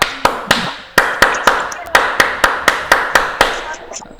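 Group of scouts doing the rhythmic scout clap, sharp, unison claps in a patterned rhythm of groups of three, close and loud, with a faint voice behind.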